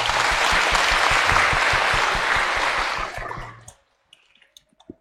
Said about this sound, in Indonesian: Tepuk tangan untuk Laura.